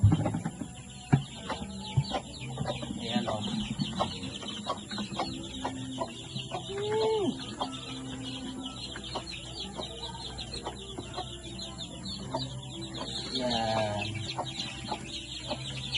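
Chickens cluck repeatedly on a farm among other livestock, with scattered calls near and far and a couple of louder squawks, over a steady background hum.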